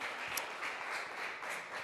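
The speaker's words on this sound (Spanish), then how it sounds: "Dale un aplauso al Señor" A church congregation applauds in a dense, steady burst of clapping at moderate volume, with a few sharper claps standing out.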